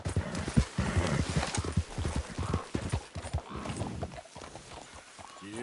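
Horse galloping in Red Dead Redemption II, rapid rhythmic hoofbeats with snorts and a short whinny, loud and close, continuing throughout.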